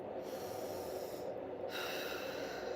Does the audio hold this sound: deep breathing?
yes